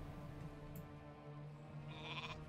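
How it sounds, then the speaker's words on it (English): A sheep bleats faintly in a Warcraft 3 match, a short quiet call over low steady game ambience with no talk. "Sheep."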